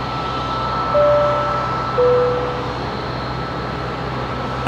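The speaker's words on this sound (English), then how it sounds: "Sounds like a max 8 on spool up." Boeing 737 MAX 8 jet engines spooling up at night at Brisbane Airport: a steady, broad, distant roar with a thin whine that rises twice.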